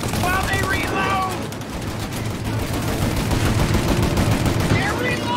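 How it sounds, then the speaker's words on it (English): Rapid gunfire from a shootout in Mafia: Definitive Edition, with bursts of machine-gun fire and single shots overlapping throughout at close range and loud, alongside game sound effects. "Shoot out their guns when there's a break in the fire!"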